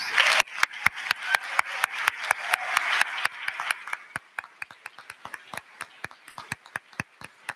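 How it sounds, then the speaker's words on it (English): Applause for graduating master's students at a university convocation ceremony: a steady crowd clapping for several seconds, then thinning to scattered, sharp individual claps that continue to the end. "Please, let's give them a round of applause"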